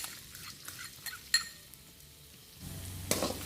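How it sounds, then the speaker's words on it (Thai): Chopped garlic frying in cooking oil in a pan, a soft continuous sizzle with a few light utensil clinks and stirring scrapes, then a louder burst of sizzling near the end, with no talking. "ใส่น้ำมันสำหรับผัดลงไป ตามด้วยกระเทียมสับ"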